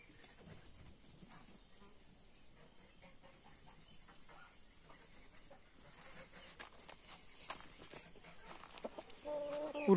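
Hens and a rooster cluck and chatter softly at a distance, with occasional louder squawks toward the end over a quiet outdoor background.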